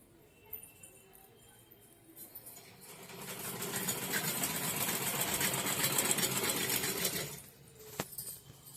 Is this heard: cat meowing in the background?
no